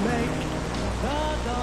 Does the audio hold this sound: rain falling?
yes